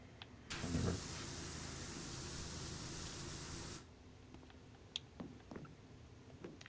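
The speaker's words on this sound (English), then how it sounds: "Because you see how it's like a wider spray, it doesn't get fully in there" A pressure washer in Power Wash Simulator sprays a wide jet while cleaning a subway platform, a loud steady hiss running about three seconds before cutting off, followed by quieter small clicks and taps.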